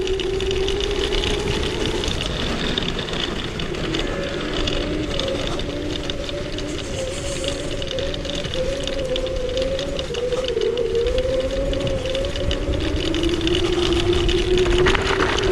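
A CHAOS FREERIDE 2400W dual-motor electric scooter rides across grass, giving a steady, loud motor whine with a rising and falling pitch over continuous rattling and rumbling from the rough ground, with no pauses throughout.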